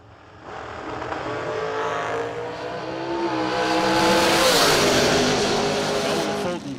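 A dragster at a drag strip launches and accelerates down the track, its engine roar swelling loud and steady with rising pitch over several seconds, with no talk.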